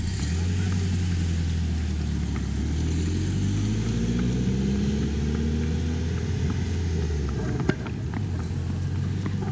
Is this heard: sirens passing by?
no